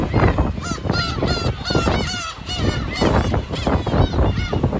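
Dense chorus of seabirds calling at a nesting colony on Kabushima island on the Hachinohe coast of Aomori, Japan, in spring: loud, continuous overlapping honking and squawking cries close by, with no talk.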